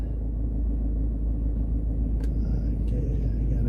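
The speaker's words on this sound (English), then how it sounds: "This is an expensive car right here." Expensive car's engine rumbles steadily on a city street in Vientiane, Laos, a low continuous drone close by with faint traffic and street noise around it.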